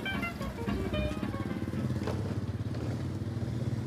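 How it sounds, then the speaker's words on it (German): An old motorcycle engine runs with a steady, throbbing idle rhythm at close range, with some clattering, in a tropical Thai setting. "Wenigstens sein altes Motorrad ist ihm treu geblieben."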